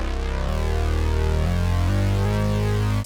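Bass notes on a Poly D analog synthesizer with the filter opened wide sound bright, raspy and aggressive. A loud sustained line steps through several pitches with no gaps and rich upper harmonics.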